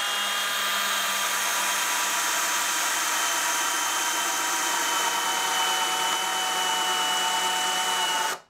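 A DeWalt cordless drill spins continuously in first gear on a large FlexVolt battery, a steady whining motor hum held at full speed before cutting off abruptly at the end.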